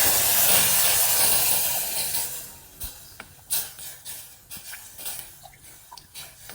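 Milk poured into hot roasted semolina in a pan for rava porridge, a loud steaming hiss that fades after a few seconds into soft bubbling and clinks.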